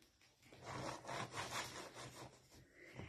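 A hand sweeps and rubs across sand in a small sand tray in quiet, soft, rhythmic scraping strokes, about five passes, close and gentle with no talking.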